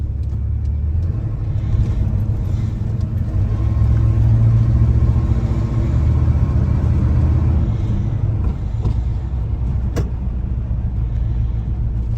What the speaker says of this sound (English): we're going to take this truck for a test drive here and see how it does